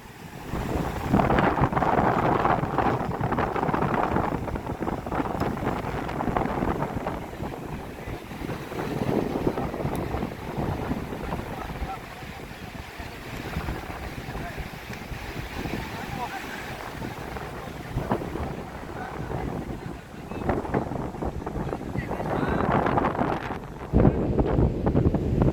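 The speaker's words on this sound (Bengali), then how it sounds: "ঢেউর পর ঢেউ আসতেছে, অসাধারণ দৃশ্য।" Sea waves roll in and break one after another on the beach at Parki, a steady broad wash of surf with gusty wind buffeting the microphone throughout.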